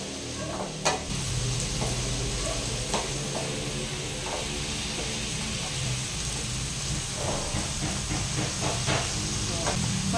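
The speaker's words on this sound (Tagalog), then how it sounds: "Aking igigisa sa toyo ang puso ng saging." Banana blossom sautéing in soy sauce in a pan gives a steady hiss and sizzle throughout, with occasional stirring clatter and faint background voices.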